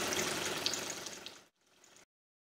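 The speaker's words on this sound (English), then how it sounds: "The appliance carries out a full rinse cycle until the water tank is empty." Water rushes and gurgles steadily as a De'Longhi Magnifica ESAM4200 espresso machine pumps through a descaling rinse, then cuts off, trickles briefly, and stops.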